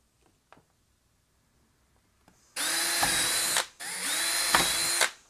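A power drill whirs in two sustained bursts, close and loud, separated by a short pause, after a few faint clicks and taps, while drilling parts for a ham radio go box.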